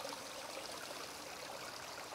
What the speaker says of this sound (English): we hear, you know, there's like a three-tier waterfall